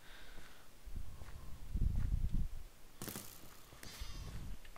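A sheep in a video game bleats a few times, short nasal calls mixed with low thumps and rustling in the background.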